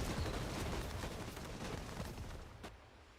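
Howitzer artillery in the game Warpath pounds away as a dense, rumbling barrage of overlapping booms, loud and continuous before tapering off, with one sharp report near the end.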